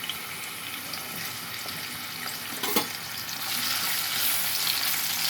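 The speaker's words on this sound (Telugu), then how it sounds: "శుభ్రంగా వేడి నీళ్ళలో కడిగి పెట్టుకున్న చేప ముక్కలు వేసుకొని వేయించుకోవటమే." Washed pieces of dried fish frying in hot oil in a kadai, a steady broad sizzle running throughout, with a brief clatter near the middle and the frying growing slightly louder toward the end.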